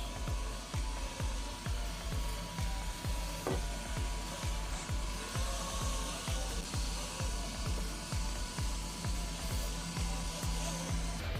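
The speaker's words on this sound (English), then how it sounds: "this is the first time ever using a mop robot in my kitchen" An Erabros LS1 robot vacuum and mop working across a kitchen floor gives a steady motor whir with a regular rapid thumping pulse running underneath, fairly quiet and constant throughout.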